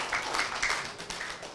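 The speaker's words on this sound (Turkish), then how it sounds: "Aferin size alkışlayın arkadaşlar." Children applauding at a televised kids' play show, a brief burst of light, scattered claps that rise and fall, fairly distant and soft, with no talk over them.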